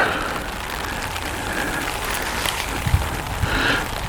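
Rain patters steadily on a tarp over a motorcycle campsite on the Mogollon Rim in Arizona, a close, soft continuous hiss with a few heavier drips.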